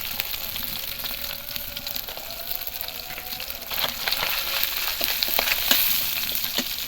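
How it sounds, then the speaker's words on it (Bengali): Panch phoron spices crackle and fry in fish oil in a pan for a pumpkin-stem chachchari, a continuous close sizzle with scattered sharp pops that grows louder toward the end. "তেলটা দেখুন বন্ধুরা ভাজা ভাজা হয়ে এসছে"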